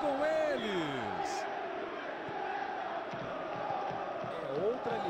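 A stadium crowd in a football video game roars steadily after a goal, a broad continuous wash of cheering beneath a commentator's voice, with a few rising electronic tones at the start.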